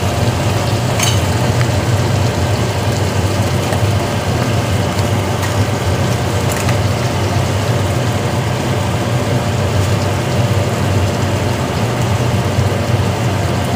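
Garlic and ginger frying in a pan, a steady, close crackling sizzle that holds constant throughout over a low background hum.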